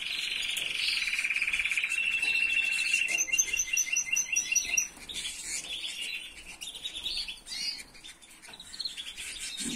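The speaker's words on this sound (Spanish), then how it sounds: "Quiero que escuchéis un metálico que va a soltar ese pájaro" A caged songbird sings close by, repeating bright, high, metallic trilling notes in rapid runs, then shorter chirps with faint background noise.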